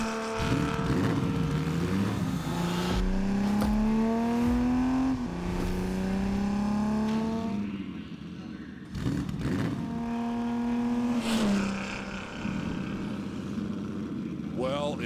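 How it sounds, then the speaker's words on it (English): Classic cars at a Mecum collector car auction in Kissimmee, with engines revving repeatedly in rising and falling sweeps and sharp throttle blips, under an excited crowd and commentary. "If that is not a symphony of automotive sounds, I don't know what is."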